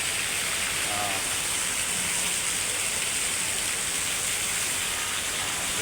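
Heavy rain pours down at a warehouse in Bohol, Philippines, in a constant loud hiss, a dense wall of noise that never lets up.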